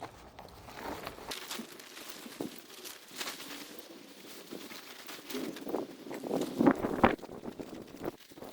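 An Arcturus emergency survival blanket tarp crinkles and rustles as it is folded along its creases, with soft, irregular crackling bursts that grow louder and denser toward the end.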